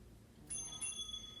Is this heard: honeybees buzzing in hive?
no